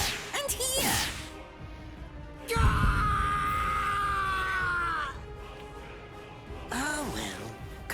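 Bleach Rebirth of Souls game audio: a man screams in pain in long strained cries, mixed with sharp whooshing hits and other voices, loud and up close.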